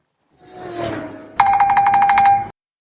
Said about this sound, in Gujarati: કોનો ફોન આવ્યો છે?